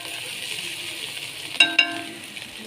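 Hilsa fish frying in oil in a home kitchen pan, a steady broadband sizzle with two sharp clinks of a utensil against the pan near the end, no talking.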